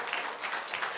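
A church congregation claps together in a steady, dense patter of applause, close and continuous for a brief moment.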